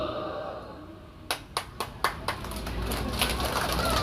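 A small group claps at a religious gathering at a tahfizh school inauguration, a few sharp distinct claps in a loose rhythm, then a softer spread of clapping over a low murmur.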